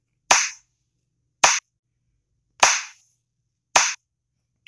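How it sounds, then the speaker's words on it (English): Hands clap in four sharp, separate smacks spaced about a second apart, each crisp and loud against near silence, with a faint start of a fifth at the end. "And she's clapping her hands?"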